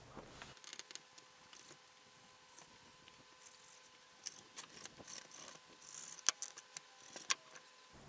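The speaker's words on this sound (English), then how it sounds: "gotta cut out these ribs" Knife cutting the ribs out of a large personal-best rainbow trout, giving soft scraping and crisp snipping clicks, quiet at first and then more frequent sharp ticks near the end, with no talking.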